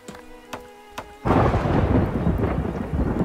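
Lightning strikes in the survival city-builder Farthest Frontier with a sudden loud thunder crack that rolls into a heavy rumble and steady rain, after a few soft clicks.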